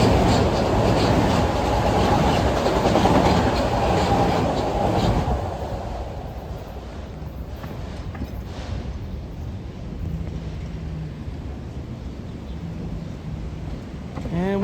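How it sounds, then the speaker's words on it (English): A southbound Metro-North M7 commuter train passes close by, its loud rumbling roar filling the first several seconds before fading to a softer, receding rush with wind buffeting the microphone. "Train going by was train 2009, and we have a southbound M7 consist."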